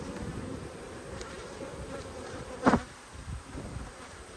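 Honey bees hum in a dense, continuous drone around an opened Blue and White hive, with one brief louder buzz as a bee passes close.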